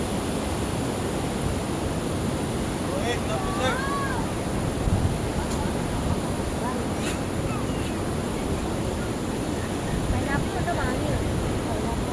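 A waterfall near Mattupetty dam in Idukki pours steadily, a broad constant rush of water that fills the scene with some wind buffeting, and faint voices sit beneath it.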